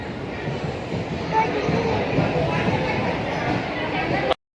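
A train rumbles in at Washim station, a heavy rolling roar with clattering, while people talk nearby; the sound cuts off abruptly at the end.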